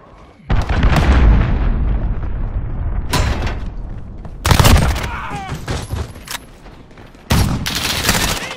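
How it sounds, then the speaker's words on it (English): Call of Duty Black Ops 4 multiplayer with three loud, booming blasts from an allied cruise missile strike, each followed by rumbling debris and scattered gunfire in between. "Allied cruise missile launched."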